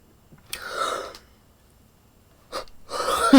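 A person yawns twice: a long breathy open-mouthed exhale, a silent gap, then a shorter second breath that rises into a voiced, whining finish, close and fairly loud.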